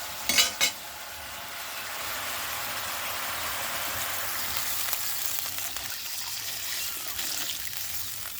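Water is poured into pork cooking in a pot outdoors, a brief clatter at the start followed by a steady hissing sizzle and bubbling that carries on close by.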